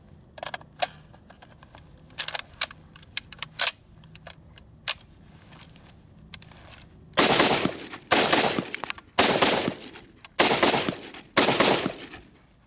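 An FAL rifle fed from an old 1970s magazine with a weak spring fires a string of sharp, loud shots, some single and some in quick bursts, with quieter clicks and handling noises between them.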